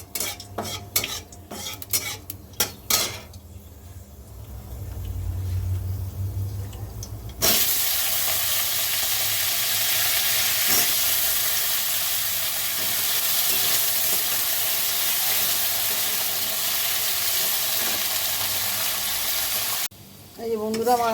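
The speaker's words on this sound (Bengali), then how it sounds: "এবার এর মধ্যে দিয়ে দেবো আলু। আলুটাকেও এরকম কপির মতন লাল লাল করে ভেজে নেব।" Potatoes drop into hot oil seasoned with five-spice after some stirring and clinks of a utensil, then a loud, steady sizzle of frying fills the pan for about twelve seconds before it cuts off.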